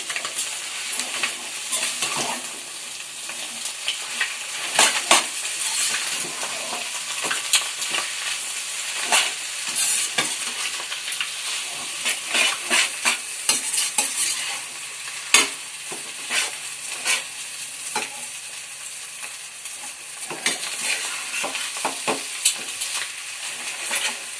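Noodles being stirred in a frying pan, a steady sizzling hiss with frequent scraping and clacking strokes of the utensil, close and fairly loud, running throughout without any talk.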